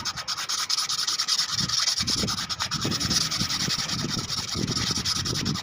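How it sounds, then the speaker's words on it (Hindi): Sandpaper rubs a burr off the shuttle of a single-needle sewing machine, producing close, continuous rasping strokes in an uneven back-and-forth rhythm with no talk. "तो हमने इसको रेगमाल कर लेना अच्छी तरीके से"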